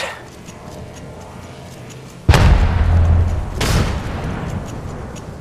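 In the Apex Legends Mobile game, a star grenade detonates with a sudden loud booming blast after a quiet stretch, followed by a second burst and gunfire-like crackle fading into rumbling ambience.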